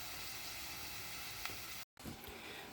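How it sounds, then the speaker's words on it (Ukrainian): Cabbage stewing under a lid in a pan sizzles with a steady, soft broadband hiss, a short gap breaking it near the end before the gentle crackling resumes. "Ну так, капусточка цуситься."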